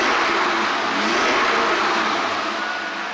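Ford Mustang muscle car engine revving, a loud sustained roar that rises and holds steady for a few seconds.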